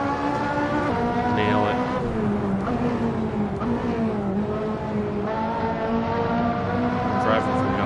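Race car in a video game heard from an outside view, its engine a loud steady high whine that rises and falls as it shifts, with a brief tire squeal and someone talking over it.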